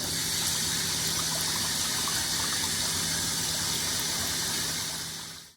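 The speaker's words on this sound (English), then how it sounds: "Move the endoscope and all tubing to clean rinse water." A bronchoscope endoscope and its tubing are swished through clean rinse water, making a steady close gushing wash that runs evenly and then cuts off.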